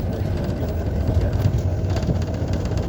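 The historic 150-year-old Tünel funicular wagons on the Karaköy–Beyoğlu line in Istanbul run with a steady, loud low rumble and rattling roll throughout, with no talk.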